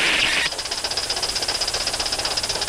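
The safety valve on a live steam Heavy Mikado model locomotive pops off, a brief loud burst of steam hiss followed by a rapid, even chuffing pulse that continues steadily for a couple of seconds, close by.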